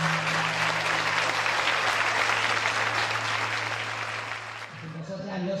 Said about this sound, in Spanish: Quiero agradecer un fuerte aplauso para ellas